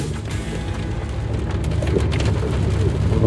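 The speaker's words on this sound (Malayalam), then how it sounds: "മഴയുണ്ട്, രാവിലെ മുതൽക്ക് നല്ല മഴ" A continuous wash of rain, heard as a dense, even hiss with faint patters, growing slightly louder toward the end.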